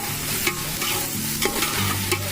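Onions fry in a pan for a chicken dish, a steady close sizzle broken by a few soft scrapes of a spoon stirring, with no voices.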